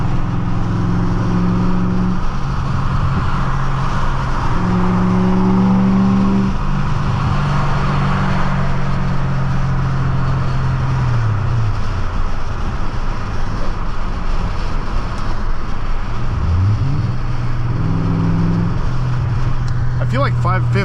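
A 1998 BMW 540i with a six-speed manual drives at speed, its engine drone rising and falling through gear changes beneath steady road and wind noise, with someone talking over it.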